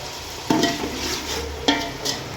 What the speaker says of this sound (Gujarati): આ ડુંગળી નાખી દીધી તેલમાં